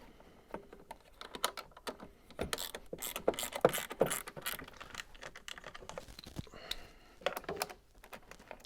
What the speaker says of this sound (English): Take your 10mm socket, start taking off the bolts here and on the inside.